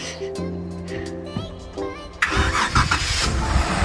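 An off-road vehicle's engine on a snowy trail turns over in a short burst of cranking after talk, loud and rough, with a voice speaking over the start.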